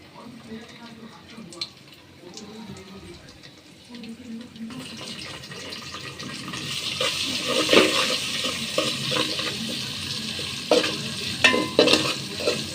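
Garlic, onion and green chilies for cooking greens fry in a pan, a soft sizzle that swells louder midway with clinks of stirring, after a quieter start with a voice talking.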